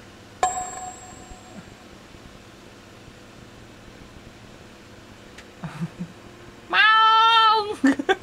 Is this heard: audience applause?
no